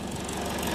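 The diesel engine of a Volvo BM-642 loader runs in the cold, with a steady, loud, close rumbling idle through a very short stretch.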